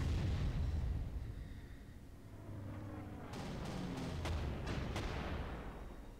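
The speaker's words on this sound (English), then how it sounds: "Some hard artillery." Heavy artillery fire in the Panzer Corps war game: a deep booming blast at the start fades into a rumbling tail, followed by a few sharp distant cracks.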